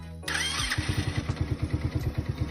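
A carbureted motorcycle engine cranks and catches after a carburetor screw adjustment, then settles into a steady, rhythmic idle putter, close and loud.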